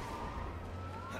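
Police car siren in The Amazing Spider-Man video game, a steady wailing tone sweeping up through a rumbling game background, brief and fairly loud.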